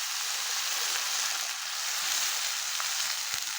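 Cut potatoes and bitter gourd sizzling steadily in hot oil in a pan while cooking a puti fish curry, a constant close, bright frying hiss with no talk.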